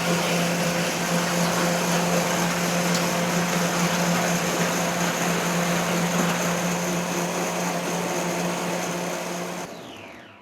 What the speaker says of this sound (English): hit the button. It grinds the ice, and it's going to mix it up for us